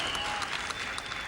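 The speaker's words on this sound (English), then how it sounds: "now that crowd's getting into it. They're trying to fire up that Beaver wrestler." A college wrestling crowd applauds and cheers to fire up the Beaver wrestler during a 1994 BV vs Wartburg match, a brief, dense burst of clapping filling the gym.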